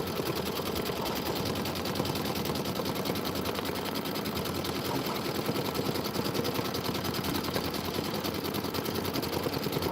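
An embroidery machine stitching a placement stitch steadily and rapidly, a continuous mechanical rattle at an even pace, close by with no talking.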